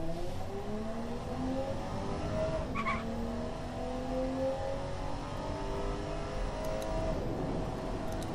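A 1986 Athena CS4 in a racing video game lapping Laguna Seca, its engine revving up and down through the gears with rising and falling tones, plus a short tire squeal partway through, loud and steady with no talk.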